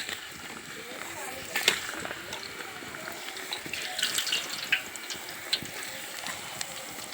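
Pressed Telangana-style appalu rice dough discs dropped one by one into hot oil for deep-frying, giving a steady close sizzle with bursts of crackling and popping that swell in the middle.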